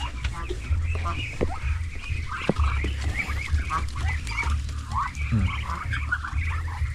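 Farmyard geese, four of them, honk and cackle in repeated bursts amid other poultry calls, with a low steady rumble underneath and occasional nearby knocks.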